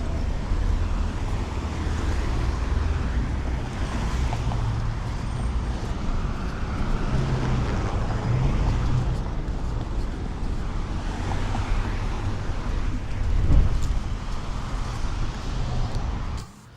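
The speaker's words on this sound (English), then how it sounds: "It is really, really windy" Strong wind buffets a microphone on a Hollywood street outdoors, a loud continuous low roar with gusts rising and falling, mixed with faint passing traffic.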